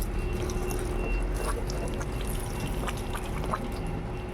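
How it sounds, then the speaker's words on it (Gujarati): Hose water sprays and pours over a motorcycle being soaked for washing after a service, a steady splashing wash with small dripping bursts, close by with no talking. "અત્યારે આપણે નળીથી ખાલી પલાળી દઈએ ગાડીને"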